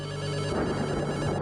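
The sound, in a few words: telephone ringing, incoming phone call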